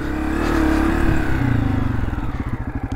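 A motorcycle on a coffee-country trail idles and revs nearby, the engine settling into a loud, lumpy, pulsing idle with no talking.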